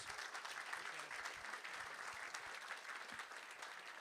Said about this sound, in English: Everybody give Anna a hand clap, would you please?